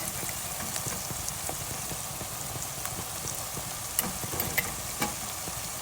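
Turmeric and chili powder stirred into a sizzling pan for a Telugu pesara attu pulusu curry, a steady soft frying hiss with light spoon scrapes and taps throughout, close and moderately quiet.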